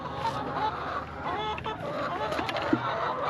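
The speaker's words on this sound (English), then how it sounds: "How are my Chicken Manor chickens?" Several farm chickens cluck and murmur nearby in a steady, busy chorus, with a brief louder squawk near the end and light background noise throughout.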